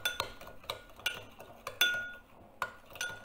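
Olive oil and seasonings are mixed together with a metal utensil against a bowl, quick clinks and taps in an irregular rhythm, close and fairly quiet, with no voices.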